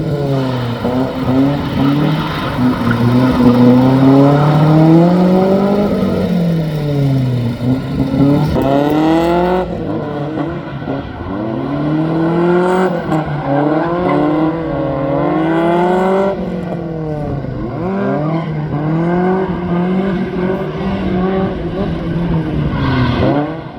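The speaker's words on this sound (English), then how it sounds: "The car wants to drift if you're in the right rev." A car drifts and revs hard through gymkhana practice runs, its engine rising and falling in repeated sweeping bursts, loud and close throughout with no break.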